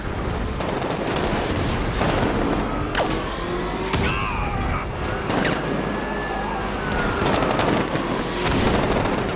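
Gunfire in the video game Batman: Arkham Knight: rapid bursts and fusillades crackle continuously with booms and mechanical clatter, loud and dense throughout an intense vehicle firefight.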